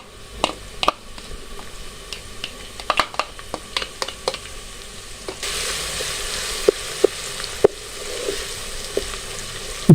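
Browned onion and garlic-ginger paste fry in a pan for a dhaba-style aloo qeema, steady sizzling with frequent clicks and scrapes of stirring, growing louder and denser midway, with no talk.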